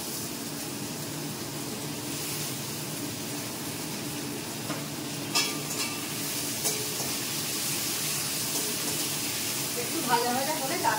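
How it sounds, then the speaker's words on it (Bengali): Cut potatoes and chillies fry in hot oil in a pan, giving a steady, close sizzle with light stirring clatter that grows busier near the end. "এবার একসাথে এই যে লঙ্কা আর আলু কাটা আছে এটা দিয়ে দিচ্ছি"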